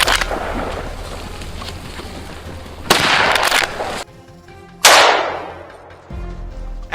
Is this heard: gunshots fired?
yes